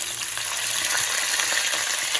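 Pork braciole browns in a hot, smoky pan, giving a dense, continuous loud sizzle and crackle throughout with no speech.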